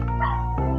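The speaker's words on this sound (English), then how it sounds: "if you hear my puppy in the background" A puppy left alone behind a gate gives a short, close whimpering bark, a brief yelping cry with a second higher yip right after.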